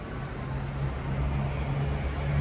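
Industrial port noise at the port of Mazatlan: a steady, dense roar with a low mechanical hum underneath, constant and moderately loud with no clear events.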